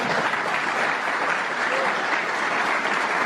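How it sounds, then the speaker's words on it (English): Audience applause at a trucking industry event, a steady dense wash of clapping held at an even level for a few seconds with no break. "Pause for applause."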